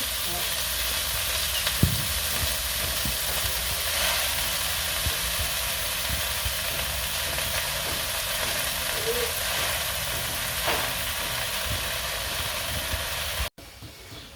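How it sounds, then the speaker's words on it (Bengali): Steady, close sizzle of leafy greens cooking with garlic in a hot pan, a continuous hissing crackle with occasional sharper pops, running on before a brief cut near the end. "ওই যে শাক রান্না করতেছে শাকের মধ্যে আজকে রসুন দিয়ে দিব"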